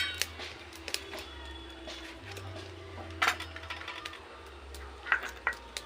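A knife on a cutting board quartering tomatoes for homemade tomato sauce in a home kitchen, giving a few faint scattered taps and clicks over low steady background hum, with no talking.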